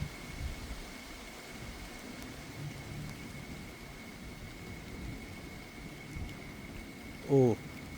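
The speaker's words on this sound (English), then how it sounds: "It is raining." Rain falls steadily outdoors during a thunderstorm, an even wash of patter that continues throughout, with a short tonal burst near the end.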